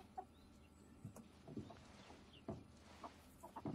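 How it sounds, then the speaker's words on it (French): Chicken clucking in a quiet setting, a handful of short, soft clucks spaced irregularly at a moderate distance. "Poulet."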